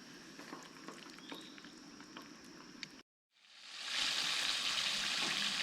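Steady loud sizzling of frog legs frying in a hot pan at a campsite, with a brief cut to silence before the hiss swells back up even stronger.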